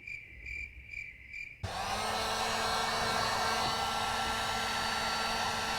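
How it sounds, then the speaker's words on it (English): A heat gun switches on abruptly and then runs as a loud, steady roaring blow while it warms blackout tint film on the side markers of a C7 Corvette, with no talking. "what I want to do is just use a little bit of heat from the heat gun and massage it into the crack"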